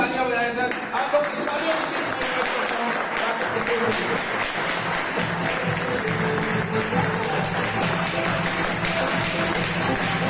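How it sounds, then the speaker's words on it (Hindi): An audience claps for a guest at an indoor gathering, sustained loud applause that continues evenly for around ten seconds with a murmur of voices beneath it. "आप लोग भी तालियां बजाएं सर"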